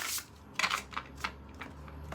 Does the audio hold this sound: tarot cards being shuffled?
yes